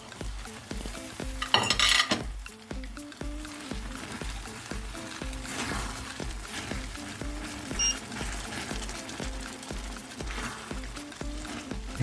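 Swedish meatballs sizzling in a pan, a continuous close frying hiss with clinks of utensils against the pan and a brief louder scrape early on.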